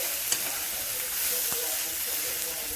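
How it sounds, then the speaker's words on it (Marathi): Spiny gourd (kantola) with masala sizzles steadily in hot oil, a close, continuous frying hiss broken by a couple of faint stirring scrapes. "आणि थोडंसं तेलात परतून द्यायचं."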